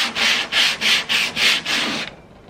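Hand sanding of dried, hardened car body filler with 120 grit sandpaper: six rhythmic back-and-forth strokes, close and loud, ending in quiet.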